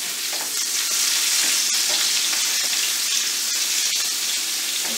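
A hamburger patty sizzles and fries in a pan after being flipped, a loud, steady crackling hiss close up with small pops throughout and no voices.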